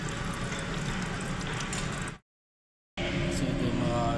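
Fluid drains from a Mitsubishi L200 Strada pickup as a continuous wet, splashing pour, close and fairly loud. It cuts out briefly to silence, then resumes just as steadily.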